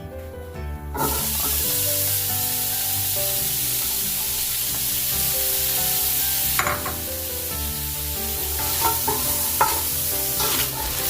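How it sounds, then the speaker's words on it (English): Chopped onion frying in heated oil with whole spices for a jackfruit biryani, a steady loud sizzle with occasional stirring scrapes and clinks, no voices. "Once this is heated, we're going to add about 1 cup of chopped onion"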